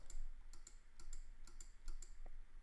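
Repeated crisp mouse clicks on a computer, spaced roughly every half second in a quiet room, sharp and close with no talking.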